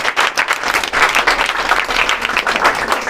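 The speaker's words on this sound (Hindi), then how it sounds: "जोरदार तालियों से स्वागत कीजिए।" Loud, dense applause from an audience welcoming a student at a school event honouring twelfth-grade students, steady clapping throughout with no voices over it.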